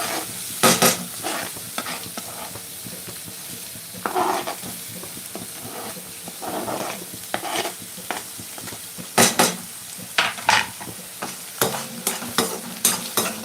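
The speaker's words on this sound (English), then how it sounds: "The oil is hot. Now I will add the onions." Onions sizzling in hot oil in a pan for a green chickpea ghugni, with a steady fry hiss broken by bursts of spatter and clinks of a stirring utensil against the pot; no talking.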